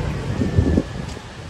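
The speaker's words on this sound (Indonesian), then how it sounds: "cerah dan anginnya itu sangat kencang sekali" Strong wind buffets the microphone outdoors on a sunny day in Canggu, Bali, giving a loud, low rumbling roar with gusty surges throughout.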